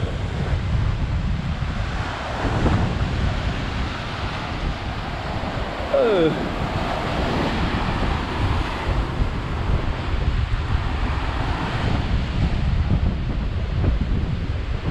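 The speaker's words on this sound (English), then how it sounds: "give you a little taste in this kind of typhoon weather" Strong typhoon wind roars along the Coloane seaside road in Macau while sea waves surge and crash, loud gusting rumble and microphone buffeting throughout, with a brief passing whine midway.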